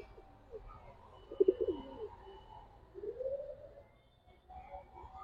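A male pigeon in a loft gives soft, throaty cooing calls, a few quiet rolling coos spaced over several seconds against a faint background.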